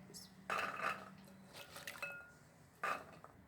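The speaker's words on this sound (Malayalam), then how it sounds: "ഇനി നമുക്കൊരു കുക്കർ എടുക്കുക. അതിലേക്ക് നമുക്ക് കടലിട്ട് കൊടുക്കാം." Chickpeas dropped into a pressure cooker, with a few close metallic clinks and rattles in short bursts and quieter handling noise between them.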